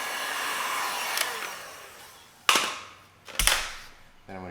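A heat gun blows a steady airy hiss while warming vinyl wrap on the fender of a 2017 Subaru Outback, fading gradually, with a few sharp snapping clicks near the end.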